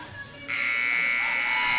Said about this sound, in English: So you got 5 seconds until you'll hear this buzzer